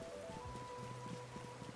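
Steady rain patters across the outdoor world of the video game Pokémon Legends: Z-A, a soft continuous wash beneath a low background music tone, with no one speaking.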